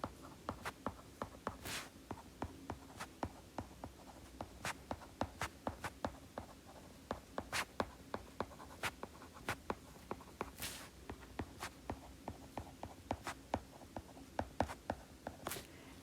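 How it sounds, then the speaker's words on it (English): Pen or pencil scratching across paper while a full sentence is written by hand, producing a steady run of small, close taps and strokes with no voices. "Notice that I'm writing in a full sentence."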